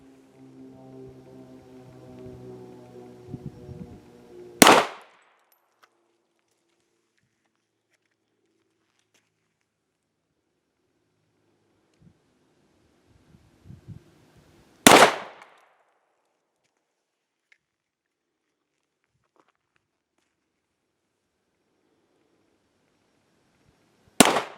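Three loud, isolated pistol shots from an HK VP9 and a Sig P320 pistol, spaced about ten seconds apart with near silence between, the first one following a stretch of low murmur and shuffling.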